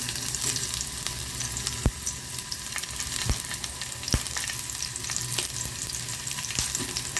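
Garlic and ginger sauté in hot oil in a kadai, a continuous close sizzle with a few sharp spattering pops standing out, no voices over it.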